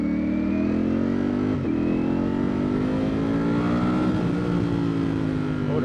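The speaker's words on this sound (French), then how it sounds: "je suis sur une Ducati Street Fighter V4S" A 2024 Ducati Streetfighter V4S motorcycle accelerating on the road, its V4 engine pulling up through the revs in a rising drone, with a gear change where the pitch briefly dips, loud and close from the rider's position.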